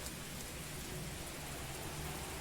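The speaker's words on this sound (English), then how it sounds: "Overhead, the rain had begun to intensify" Steady in-game rain from Fallstreak falls in an even, dense hiss that holds at the same level throughout, with no talk over it.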